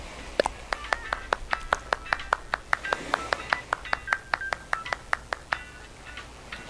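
Rapid game-style clapping from Animal Crossing New Horizons, a steady run of crisp, evenly spaced claps repeating for several seconds with bright chiming tones on each hit, over faint background.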